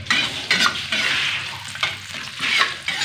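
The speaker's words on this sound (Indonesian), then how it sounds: "sekarang mari goreng bawang" Onions frying in a hot pan, a steady close sizzle broken by a few louder bursts of stirring as they are moved around.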